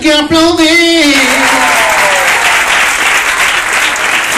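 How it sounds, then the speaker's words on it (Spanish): A worship concert crowd breaks into loud, dense clapping that continues steadily after a brief sung phrase at the start. "Solo tienes que aplaudir."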